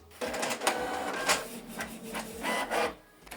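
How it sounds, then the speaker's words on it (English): A Canon Pixma TS3751i inkjet printer prints a test page, giving a close, continuous whirring and clattering mechanical run with periodic carriage sweeps and roller pulses, with no talk over it. "print test page"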